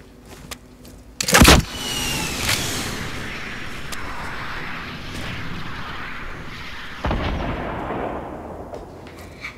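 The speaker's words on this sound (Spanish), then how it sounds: "Lanza cohetes." Rocket launcher fire and explosions in Fortnite, a sharp loud blast followed by a long whooshing roar and a second burst, with no voices.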